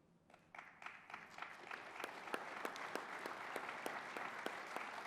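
Applause from a conference audience for a minister's speech at the 2024 CBTU Conference, heard from a distance and fairly faint; it starts with a few claps and swells within a second into a full, sustained round of clapping.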